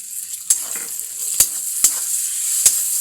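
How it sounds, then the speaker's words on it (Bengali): Chopped tomato goes into scrambled egg frying in a pan, giving a soft continuous sizzle broken by a few sharp scrapes and clicks of a stirring utensil. "ডিম প্রায় ঝুড়ো ঝুড়ো করে ভাজা হয়ে গেছে। এবার আমি দিয়ে দেবো টমেটো কুচি।"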